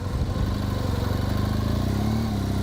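A motorcycle engine runs steadily, raised to about 1,500 to 2,000 RPM on a hill restart, giving a close, continuous rumbling drone with a slight rise in pitch near the end.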